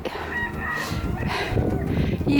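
A neighbour's hen clucks and squawks in agitation close by as it is caught in a garden, amid rustling and scuffling movement, with a few brief sharp calls over steady background noise.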